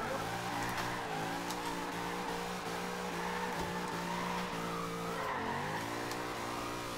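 Ford Escort drift car in Forza Horizon 2 sliding through a run, engine revving and shifting pitch while tires squeal continuously, loud and close with no talk.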